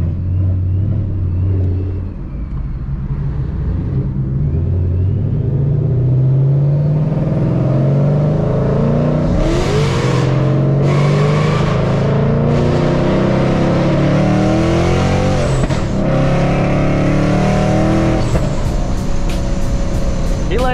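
A Whipple-supercharged Ford Mustang S197 roars loudly and continuously while driving, with rising and falling revs and a steady heavy drone close by, and no talk.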